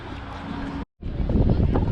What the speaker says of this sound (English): hopefully you all heard any of that, because it's gotten windy.